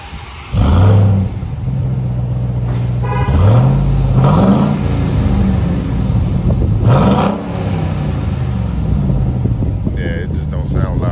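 A Ram TRX pickup engine revs hard three times in quick bursts, each rising then falling back to a rumbling idle, recorded outdoors close-up with wind buffeting the microphone.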